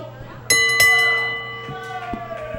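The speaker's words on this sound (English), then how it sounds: "There's the bell." A wrestling match bell clangs twice in quick succession at an independent wrestling show, bright metallic strikes ringing out and decaying over about two seconds above crowd noise.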